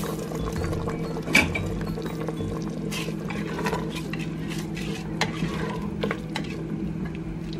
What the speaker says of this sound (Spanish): Lo revuelvo y lo dejo que cocine a fuego medio